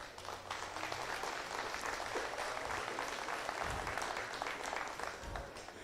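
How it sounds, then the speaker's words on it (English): Audience applause for young exhibitors at a junior steer show in Saskatoon, a steady broad clatter of clapping held at an even level throughout, fairly distant and without talk. "I think we need to give these young exhibitors a round of applause."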